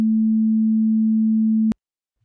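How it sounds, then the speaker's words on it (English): A steady, pure sine tone at 220 hertz, the first harmonic of a banjo, holding at an even level for under two seconds before cutting off abruptly into silence. "So we have here the first harmonic, which is at 220 hertz."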